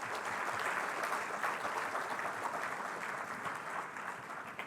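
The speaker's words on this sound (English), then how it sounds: "Can we please give a round of applause for those students?" Audience applause for students at a school awards day in a large hall: dense, continuous clapping from many hands, steady for several seconds before easing slightly, with no talking over it.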